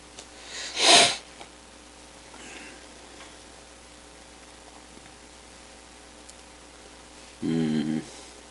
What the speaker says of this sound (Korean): 기침이 이렇게 새벽이라서 그런가?